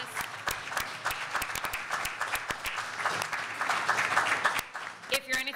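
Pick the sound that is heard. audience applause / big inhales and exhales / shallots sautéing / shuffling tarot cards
audience applause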